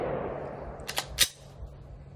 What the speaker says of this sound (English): Let me try to do 5 more shots on the same target.